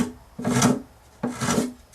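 Plastic guitar binding is beveled by hand with a scraping tool, giving two short, close rasping strokes with a quiet pause between them.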